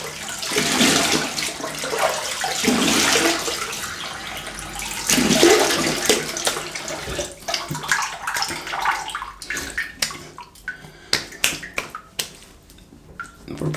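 Water splashes during a quick rinse after a shave with an Edwin Jagger DE89 safety razor and shaving soap. Busy close splashing fills the first half, then it thins into scattered taps and drips.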